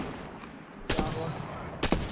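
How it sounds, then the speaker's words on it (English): Two sharp bursts of gunfire in an Apex Legends match, each a short loud volley about a second apart, over a low steady game background. "Taking fire. Joker's shooting at me."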